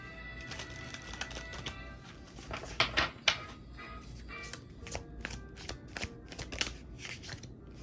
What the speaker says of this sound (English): I'm gonna give these another good shuffle